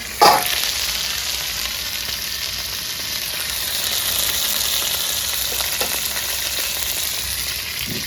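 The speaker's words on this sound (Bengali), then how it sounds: "আমি এখানে এদিকে বেগুন ভেজে নিচ্ছি" Eggplant fries in oil with a steady, close sizzle and bubbling that holds evenly throughout, apart from a faint stir at the start, with no voices.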